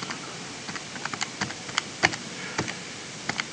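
Keys tapped on a calculator in quick, uneven bursts of light clicks, close and fairly quiet, with no talking.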